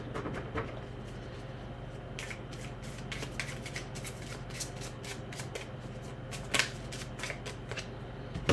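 An oracle card deck being shuffled close up, a steady run of soft riffling rustles and slaps with a sharper snap near the end, quiet and with no talking.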